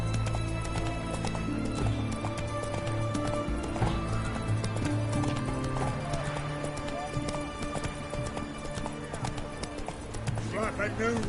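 Roach the horse gallops in The Witcher III, a rapid steady clip-clop of hooves with a short whinny, heard over background game sounds and a voice.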